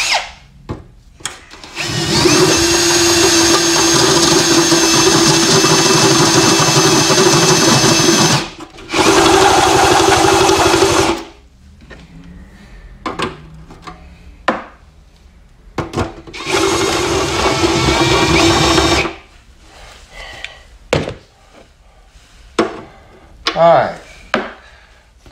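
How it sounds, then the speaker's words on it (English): A titanium step-up drill bit bores through metal while a supercharger oil return line is being made, giving long, loud, steady whining runs of drilling separated by brief pauses and clattering handling noises. "So I'm gonna use my titanium drill step up drill bit."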